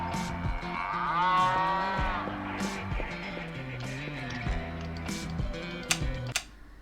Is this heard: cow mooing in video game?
yes